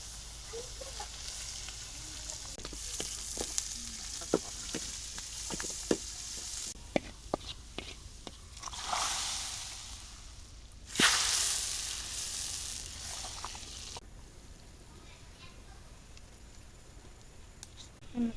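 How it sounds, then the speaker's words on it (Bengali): Cooked lentils tempered in hot oil in a village kitchen, giving a sharp burst of sizzling that fades out, with scattered clicks and stirring clatter around it. "আমি ডাইলটি বাগার দিই"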